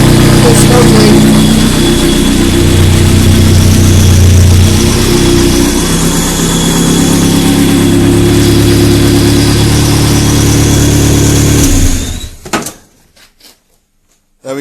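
A rear-wheel-drive turbocharged Nissan Micra starts for the first time and runs at a loud, steady idle close by, then cuts off abruptly near the end with a few clunks.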